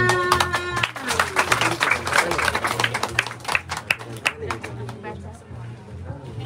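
Villagers in Papua clap during a community visit where children's reading books are handed out, a scattered round of applause starting at a medium distance, with talk and chatter mixed in, then fading out.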